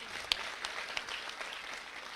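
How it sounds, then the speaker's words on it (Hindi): A crowd at a farmers' tractor rally in Gohana claps, heard as a faint, distant wash of applause with a few sharper individual claps standing out. "ताली मारो जोरदार एक बार"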